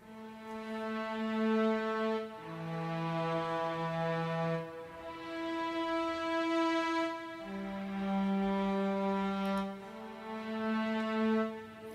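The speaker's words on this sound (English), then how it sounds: "Then I've got another Spitfire library, which is the Heirloom library, and it's the strings long." Sustained orchestral strings from a sampled long-notes patch in a music production session, slow swelling chords that shift every couple of seconds, soft and smooth with gentle automated rises and falls.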